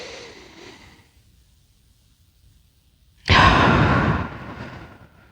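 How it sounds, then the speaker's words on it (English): Deep breathing during a kids' yoga exercise, a soft fading exhale followed by a pause, then a sudden loud, close breath out that tapers off over about a second. "As you breathe in and as you breathe out."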